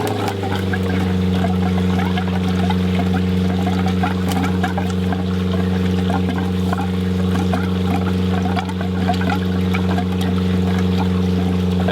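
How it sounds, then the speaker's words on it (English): A 12V water pump priming through filter canisters in an off-grid caravan setup, a loud steady motor hum with a strong low drone and watery gurgling running underneath, holding constant for the whole stretch with no talk. "I actually heard a change in the sound there of the pump. It does sound like it's working a little bit harder"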